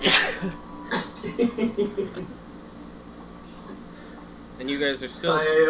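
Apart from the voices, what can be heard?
sneeze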